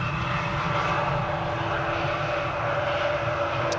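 A steady, loud jet aircraft roar from an Embraer airliner, continuous and even throughout, with a faint tonal whine riding over the broad engine rumble.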